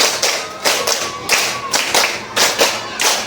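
Children in a classroom clap their hands together in a steady rhythm, bursts of group clapping coming in evenly spaced sets with short gaps between them, close and fairly loud, with no talking.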